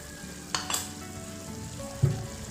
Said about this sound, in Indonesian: Lalu akan saya aduk rata.